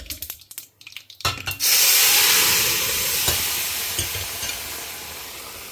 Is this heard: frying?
yes